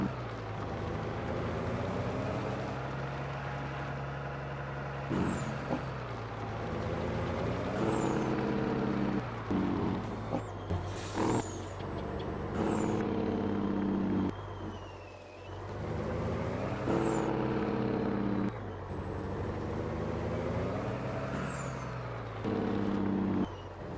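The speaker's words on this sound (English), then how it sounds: "I really like the Jake on this truck" A loud truck engine brake blatting in repeated long pulses in Farming Simulator 22, with rising and falling engine tone and air hissing between them, sustained throughout.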